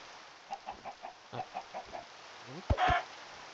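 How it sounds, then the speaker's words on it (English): Chickens in the Minecraft video game cluck in a quick run of short, evenly spaced clucks, then a louder, harsher burst near the end, all fairly close and with no talking. "Oh, chickens!"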